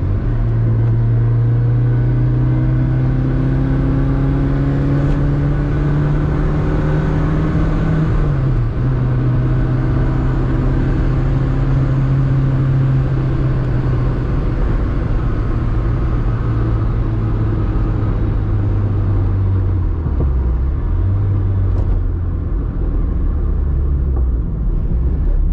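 A 1975 Lancia Beta Spider accelerating hard along a straight road, its engine note climbing through the gears with a shift and pitch drop near the middle, then pulling again; loud, close and continuous with no talk.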